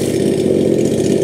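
A 52cc ANBULL gas chainsaw with a 48 cm bar idles steadily nearby, its small two-stroke engine putting out a constant loud, even buzz with no revving and no voices.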